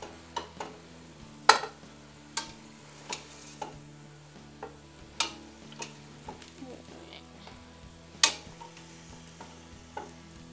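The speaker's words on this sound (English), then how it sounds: "this meat looks like it's browning, so we're actually going to take this meat out and then brown our vegetables." Meat browning in a cooking pot, with a soft steady sizzle broken by occasional sharp clinks and scrapes as it is stirred, close up under light background music.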